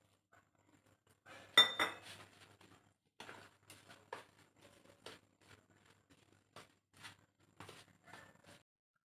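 A spoon clinks and scrapes against a bowl in scattered bursts while bottle gourd chilla batter with water, ginger-garlic paste and white sesame is stirred, close and fairly quiet with brief pauses.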